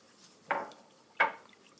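A spoon stirring a sugar, starch and flour dessert mixture in a pot for bardak tatlısı, giving two short scraping knocks about 0.7 seconds apart, close and moderately soft.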